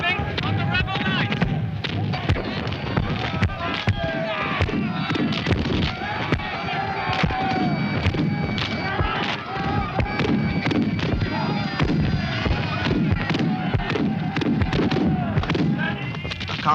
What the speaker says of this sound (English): It's going to be very difficult to see what effect our cannon is having on the rebel lines.